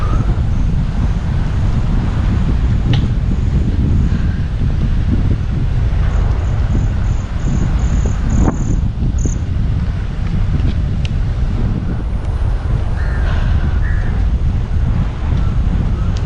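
Strong wind buffets the microphone in a constant loud roar near the seashore, with occasional faint sounds in the background.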